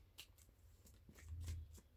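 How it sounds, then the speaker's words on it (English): Quiet, close riffling of a deck of tarot cards being shuffled, several soft rapid flicks in a row. "I'm shuffling the cards"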